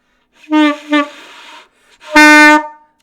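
An alto saxophone plays wavering, unsteady notes with poor tone: two short wobbling blasts followed by a louder, buzzy sustained note, played alone and close.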